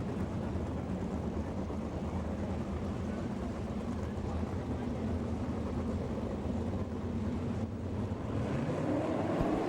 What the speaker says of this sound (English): Nick Neighbor fires the engine on that car number 6